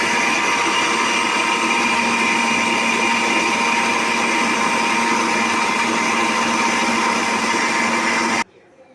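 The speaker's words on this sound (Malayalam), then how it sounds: "വെള്ളം ചേർത്ത് നമുക്ക് ഇതൊന്ന് അരച്ചെടുക്കാം." A mixer grinder whirs loudly and steadily as it grinds coconut with water into a paste for prawn curry. The high, even motor drone runs without pause, then cuts off abruptly near the end.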